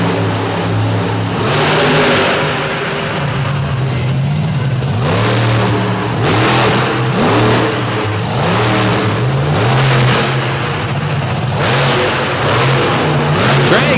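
A monster truck engine on a freestyle track revs hard in repeated surging waves, climbing and falling roughly every second or two. The roar stays loud and close throughout.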